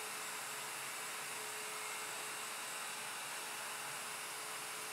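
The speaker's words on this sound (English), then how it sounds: "Then route counterclockwise with the guide pin against the guide to complete the tenon." A router in a Leigh FMT Pro jig cuts a tenon with a steady high, airy whine and a faint constant tone, continuous and fairly quiet, with no talk.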